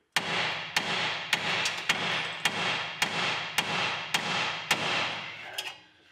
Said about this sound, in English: Or you can take a pry bar on it and just hit it right here.